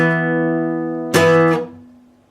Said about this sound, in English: You're going to strum it down twice, pause a second, and then strum it down once more. It will sound like this.